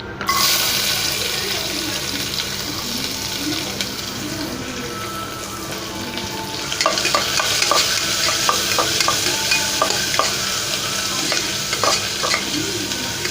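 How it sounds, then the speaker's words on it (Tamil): Small onions sautéing in a pan for a manathakkali soup crackle in a constant dense sizzle, growing busier midway with sharp spatters and light scraping as they are stirred; no talking. "வெங்காயம் இந்த அளவுக்கு நல்லா வதங்கினதுக்கப்புறமா"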